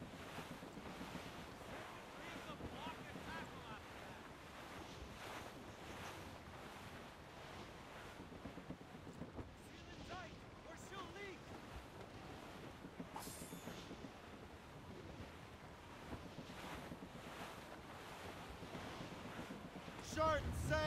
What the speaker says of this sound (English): That's quite a rough squall, Captain